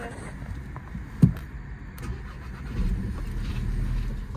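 A car engine starts with a short sharp crank and catch, then settles into a low steady idle that swells slightly, close and clear with no talk over it.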